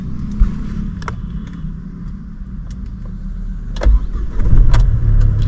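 A Mahindra XUV300 W4 car starts up close by: a few light clicks and a brief crank, then the engine catches and settles into a steady, low rumbling idle that grows fuller toward the end, no voices.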